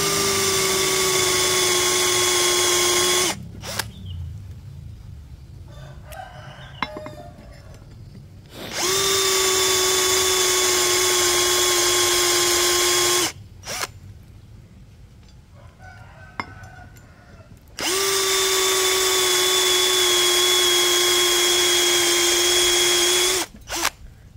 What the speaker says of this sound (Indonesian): Walaupun seharusnya kalau mengebor besi bagusnya menggunakan kecepatan nomor 1.